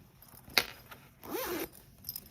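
Zippers on a sewn clamshell cosmetic bag are handled: a sharp click, then a quick rising zip lasting about half a second, and a few faint ticks after. The sounds are soft and close, with no talk.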